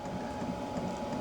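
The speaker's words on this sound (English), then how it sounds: "as you can hear it, the fuel pump has quieted down a little" Fuel pump of a new BougeRV portable heater ticking at startup, a steady soft mechanical rattle running continuously beneath a low fan-like hum, close and fairly quiet throughout.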